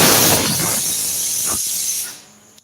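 A pressure cooker releases a loud, steady hiss of steam that rushes out, then tapers off and fades to quiet near the end.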